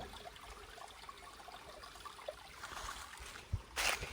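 A small stream runs through a forest near a temple grove, a faint steady trickle and gurgle heard close by, ending in a couple of louder splashy bursts, with no one speaking.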